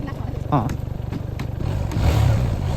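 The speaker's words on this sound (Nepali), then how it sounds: "यो बाइकको कन्डिसन चाहिँ लास्टै बेला छ" A poorly maintained motorcycle in worn-out condition runs with a throbbing, pulsing rumble that swells slightly louder toward the end, with brief voices nearby, on a trip toward Api Base Camp, Nepal.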